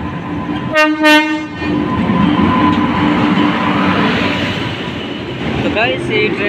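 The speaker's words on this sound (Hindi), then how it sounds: "ये ट्रेन था जिसका था इंतज़ार और आ गए डाल्टनगंज के स्टेशन पर" A passenger train pulls into Daltonganj station, sounding a loud horn near the start, then rolling in with a steady rumble and clatter of wagons. Voices murmur on the platform.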